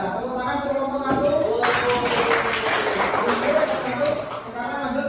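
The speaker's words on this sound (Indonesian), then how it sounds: "Ya, tepuk tangan untuk kelompok satu." Applause from a classroom audience after group one's presentation, a dense broadband patter running through most of the stretch, with voices talking over it.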